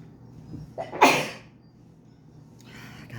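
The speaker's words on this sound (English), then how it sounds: "And I'm gonna sneeze." A single close sneeze bursts out after a short inhaling gasp, followed by quiet breathing and a faint rustle.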